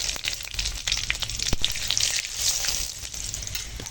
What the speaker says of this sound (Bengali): এখন কড়াই দিয়ে দিয়েছি অল্প করে তেল আর দিয়ে দিচ্ছি এখানে পাঁচ ফোড়ন আর দুটো তেজপাতা